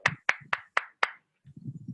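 An audience at a Modicare health care feedback gathering claps five times in sharp, evenly spaced unison beats, followed by a low murmur of voices.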